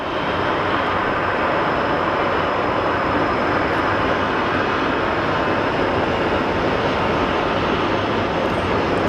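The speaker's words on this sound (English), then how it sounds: "So we have Alaska 645 going to Seattle. It's gonna be our next departure." Alaska Airlines jet departing Phoenix Sky Harbor Airport, a loud, steady broadband jet roar filling the whole stretch without letup.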